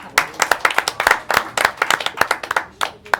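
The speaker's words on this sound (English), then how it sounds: "Come on, round of applause." A studio audience on a talk show gives a round of applause, with dense, steady clapping from many hands close by, continuing without any voices.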